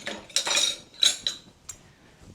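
A metal utensil clinks and scrapes against a pan while lobster and pancetta pieces are fished out, a few quick bright taps and a short scrape, close and fairly quiet.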